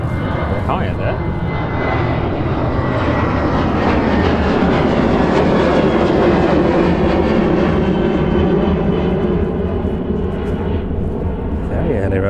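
Jet airliner, likely a Ryanair flight, taking off from East Midlands Airport, a loud sustained engine roar that swells and fades slightly over the clip, heard from a spotting position with a commentator talking over it.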